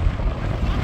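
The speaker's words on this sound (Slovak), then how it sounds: "Dobre fúka, fajne." Wind gusting across a suspension bridge buffets the microphone in a loud, low, continuous rumble over a short stretch.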